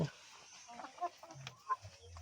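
Kadaknath chickens at a small poultry seller's yard give faint, scattered clucks, a few short calls popping up over a quiet background.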